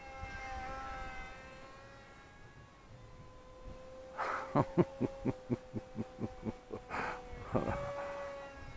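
Eachine/SonicModell Micro Skyhunter RC plane in flight, a faint, distant electric motor whine that shifts in pitch, with a run of soft rhythmic thumps midway.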